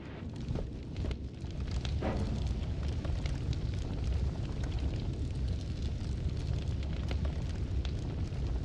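Rapid-fire spell shooting in the roguelike game Noita, a dense continuous roar of crackling bursts and booms with no pauses.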